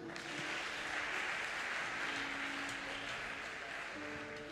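A church congregation applauds during a Sunday worship service, a steady, dense wash of clapping that fills the room from start to end, with faint voices and a low musical hum underneath.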